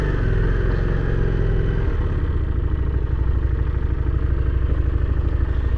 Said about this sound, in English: there's like a little delay when you hit the start button